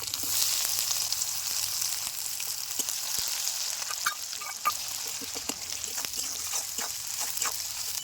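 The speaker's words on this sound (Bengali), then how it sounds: "গোটা গরম মশলা, গোটা তেজপাতা, এই ফোড়নের মধ্যে দিয়ে দিচ্ছি আমি পেঁয়াজ কুচি" Chopped onion fries in hot oil with whole garam masala and bay leaves, producing a steady close sizzle dotted with crackles and spatters that grow busier toward the end.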